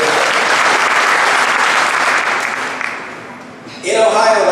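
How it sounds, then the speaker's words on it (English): Crowd at an outdoor Tea Party tax day rally in Cincinnati bursts into steady applause, dense clapping that dips briefly before swelling again loud and close, with voices mixed in. "Round of applause for that?"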